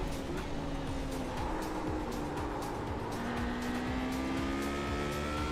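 A race car in the iRacing sim drives over rumble strips, a rapid rhythmic drumming that runs under the steady drone of the engine and the rising pitch of its gears, with no talk.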